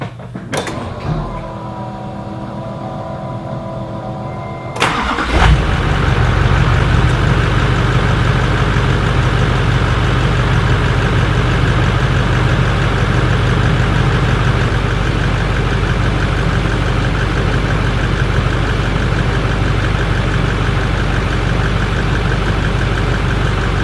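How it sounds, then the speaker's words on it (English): A mechanical whir and crank, then a 2006 Chevrolet Silverado 2500HD Duramax diesel engine catches and settles into a loud, steady, rumbling idle that continues. "fire up the truck, bring the oil pressure up"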